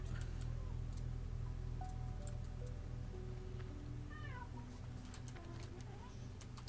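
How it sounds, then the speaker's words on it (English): A cat gives a few faint, rising meows in a room over a steady low hum and soft background tones. "Did I hear a cat?"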